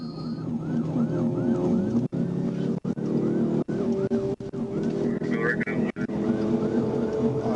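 A police trooper's siren wails in a rising and falling pattern during a motorcycle pursuit, loud and close over steady road noise, with several brief dropouts.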